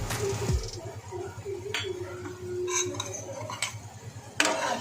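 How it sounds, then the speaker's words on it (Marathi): Turmeric, garam masala and Malvani masala being stirred into a ground spice paste for a Malvani-style white pea curry: a spoon scrapes and clinks against the vessel in uneven strokes over a low steady background. "आपण चांगलं मिक्स करून घेऊया मसाले वाटण्यामध्ये चांगले छान मिक्स करून घेऊया"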